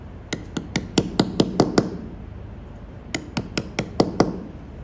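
Hammer tapping a steel chisel held at an angle to cut letters into stone: a rapid run of seven sharp metallic strikes, a pause, then another run of six, close and distinct over faint room noise.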